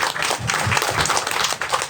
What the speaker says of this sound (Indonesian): boleh tepuk tangan dulu untuk Mas Safi.